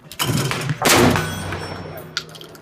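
A Molot Vepr 12 shotgun fires at an outdoor range: two loud, close booms in quick succession, each with a rolling decay, followed by a smaller sharp report near the end.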